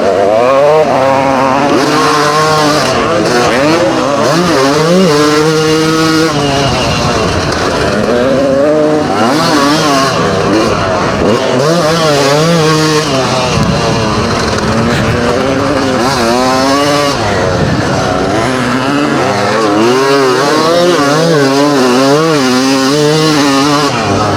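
Vintage motocross bikes race, a Yamaha 250 YZ against a Honda 500 CR, their loud, close engines whining and revving up and down continuously through gear changes with no break.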